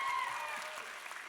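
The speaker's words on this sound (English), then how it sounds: "Can we have one more round of applause for that" An audience at a cosplay championship expo applauds in a brief burst of dense clapping that fades slightly toward the end.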